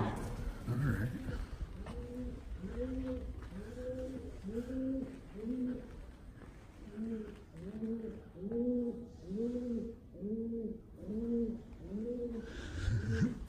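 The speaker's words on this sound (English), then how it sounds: "Pigeon." A pigeon coos in a stone basement hall of Diocletian's Palace in Split, Croatia, a close, steady series of soft rolling calls repeating in regular rhythm.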